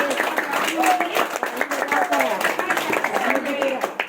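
An audience at a primary school Independence Day (15 August) celebration claps in a dense, continuous burst of applause, with voices mixed in underneath.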